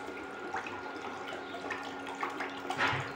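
Water is poured into a pan of moong dal cooking with drumstick leaves, a steady gentle splashing and trickling close by, fairly quiet.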